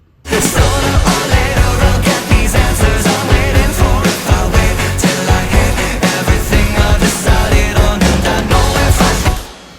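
Dense, loud layered orchestral strings sustain across several registers, backed by a steady rhythmic pulse and low percussion, running continuously for nearly ten seconds.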